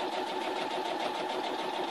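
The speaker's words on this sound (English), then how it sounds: "Start right here at the top, and I want to sew it" Sewing machine stitching fabric for a flower pot, running at a steady fast whir with a continuous buzzing rhythm, close and moderately loud, no voices.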